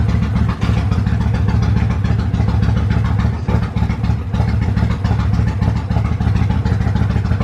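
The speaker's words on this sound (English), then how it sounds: "the motor sounds really, really, really healthy" A motorcycle that was bought sight unseen with mechanical damage runs at a steady idle, its engine note loud and close with a continuous low throb and no pauses.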